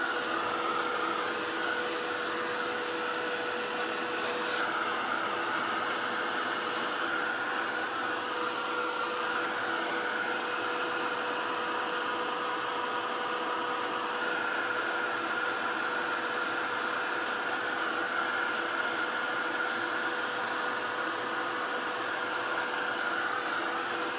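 A hair dryer drying art journal pages coated in gesso, blowing as a steady, loud, unbroken whir throughout with no talk.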